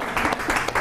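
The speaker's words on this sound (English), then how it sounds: "give a big round of applause for everybody who helped to organize today and make today possible" An audience applauding at a community gathering, a short burst of dense clapping heard close and loud with no pauses.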